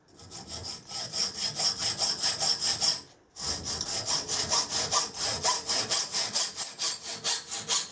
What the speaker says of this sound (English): So we'll cut the ends off square and then make some sort of bushing to go in the end